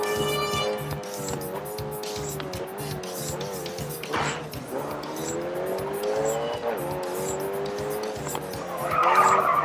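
KTM X-Bow R racing in GRID 2 with a sustained engine whine rising and falling through gear changes, long tire squeals and skids, and a harsher scraping burst near the end.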